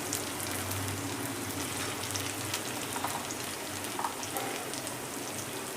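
Grated ginger and turmeric fry in oil in a pan with a steady, soft crackling sizzle and occasional faint pops, heard close and alone.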